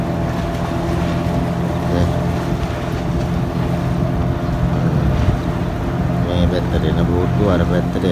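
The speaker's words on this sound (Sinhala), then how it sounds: "අර යන බෝත්තු ඕන් තව බෝත්තුවක් යනවා" A fishing boat passes at sea, its engine a steady low droning hum with wind noise throughout, holding fairly loud and constant across the stretch.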